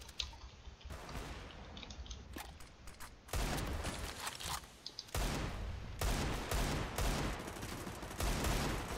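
Gunfire in a Counter-Strike: Global Offensive competitive match comes as sharp bursts and rapid volleys, some isolated shots and some clustered strings, fairly close and loud, with quieter gaps between them.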